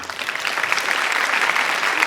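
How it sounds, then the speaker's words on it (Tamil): A full hall applauds at a May Day special pattimandram debate, with brisk, dense clapping that is loud and even throughout the short stretch. "ஒரு அரங்கு நிறைந்த கைத்தட்டு"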